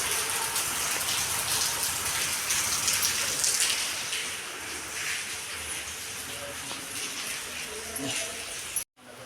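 Dense, steady rain hisses and patters throughout, fading slightly toward the end, with a sudden brief dropout near the close.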